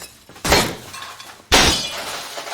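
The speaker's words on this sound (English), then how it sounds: "he smashes 3 glass doors at one of his sister's birthday parties" Glass doors smash in the film Punch-Drunk Love: two loud, sharp shattering crashes about a second apart, each trailing off in a spray of falling shards, with no voices.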